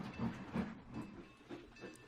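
A train rolls past a level crossing in the Trainz 2019 simulator, a steady low rumble of wagons with rhythmic swells of wheel noise, fairly faint and continuous.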